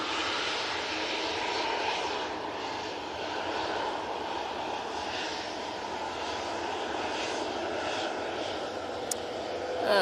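An airliner departing Manchester Airport bound for Heraklion gives a steady, broad engine roar that holds fairly constant and moderately loud for the whole stretch, with no voices over it.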